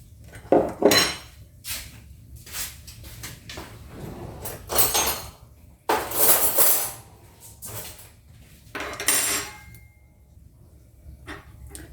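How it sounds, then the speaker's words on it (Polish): Yeast being mixed in a bowl with sugar, warm milk and flour for homemade blueberry buns, giving bursts of clinking and scraping utensil-on-bowl sounds close by, with short gaps between strokes and no talking. "I wszystko mieszamy, wyrabiamy drożdże, rozgniatamy."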